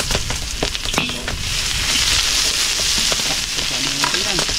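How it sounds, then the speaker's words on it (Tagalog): Onion and garlic sizzle loudly in a pan while being stirred for pancit noodles, a steady bright hiss with occasional scraping of the utensil and brief voices in the background. "start na tayo magluto ng pansit. Kailangan tayo ng sibuyas at bawang"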